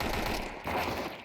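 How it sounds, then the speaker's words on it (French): Rapid Beretta gunfire in a competitive tournament video game, a dense continuous burst of shots filling the short moment, loud and close with no voices over it. "Et c'est encore une fois les duels Beretta de Scarra. Un vrai plaisir cette arme"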